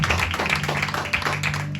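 A church congregation breaks into rhythmic clapping during a sermon, a close, uneven patter of hands with regular beats, faint voices mixed underneath.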